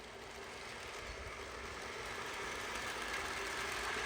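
A Lionel model train runs along an outdoor garden layout on Fast Track, giving a faint, steady rolling hum and rumble that stays even throughout with no voices.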